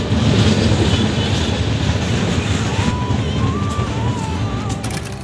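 A Jaynagar–Anand Vihar Garib Rath Express pulls into platform 2 at Madhubani railway station, a loud steady rumble of wheels and carriages with faint squeals and a low whistle-like tone, continuous throughout.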